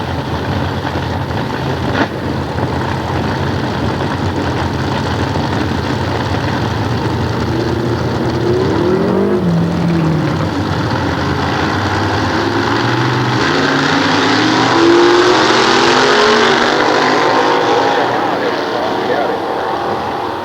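Nostalgia drag racing dragster with a 355-inch small block Chevrolet engine at Sears Point, a loud continuous engine roar heard at a distance with rising and falling pitch sweeps, while an announcer talks over it.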